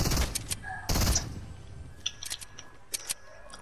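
Gunfire in the Fortnite video game: several bursts of game shots, two loud broadband blasts early on, then sharper scattered cracks at lower level, with faint voices underneath.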